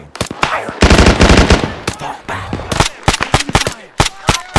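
Machine gun fire in the military shooter game Arma 3, loud close bursts of rapid automatic shots mixed with single cracks, with brief voices in between.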